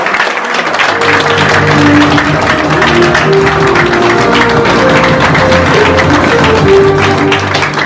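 Loud, sustained applause from a crowd at the opening ceremony of a foundation's regional branch office, dense clapping continuing evenly for nearly eight seconds with music playing underneath.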